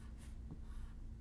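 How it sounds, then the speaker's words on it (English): The word seat is written by hand with a pen or pencil, a faint, close scratching of short strokes on paper. "Say the sounds as you write the word seat."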